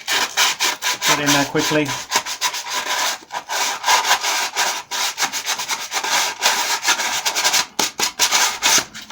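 Sandpaper rubbed briskly back and forth over the rough trimmed edge of stormtrooper armour, a close, continuous scratchy rasp with short pauses between strokes; a brief spoken phrase occurs.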